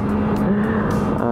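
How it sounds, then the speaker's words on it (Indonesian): A Kawasaki ZX25R motorcycle engine drones steadily while riding on a public road, a loud continuous high-revving whine with road and wind noise. "Wah, suaranya emang enak banget ini motor ya."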